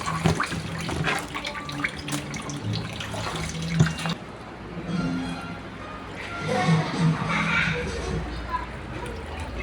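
Water splashes and pours steadily into a small gourami fish pond, loud and continuous at first then softer and burbling, while someone talks over it.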